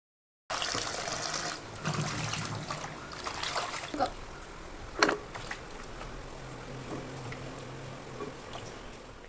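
Water runs and splashes steadily from a tap as chopped mango pieces are rinsed, with a few louder knocks and clatters partway through.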